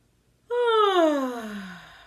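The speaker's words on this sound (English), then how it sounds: "Now let's do a yawn with a sound." A single voiced yawn-like sigh that starts suddenly and slides downward in pitch, fading slowly.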